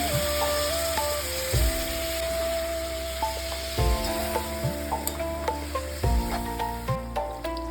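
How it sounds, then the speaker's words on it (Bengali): Drumstick flower curry sizzling steadily in a pan after water is added, a close, continuous hiss broken by periodic clinks and scrapes of a spoon stirring against the pan. "এবার আমি এর মধ্যে পরিমাণ মতো জল দেবো।"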